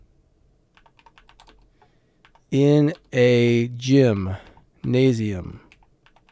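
Light, rapid clicking of fingers typing on a computer keyboard, faint and close, followed by someone speaking a short phrase.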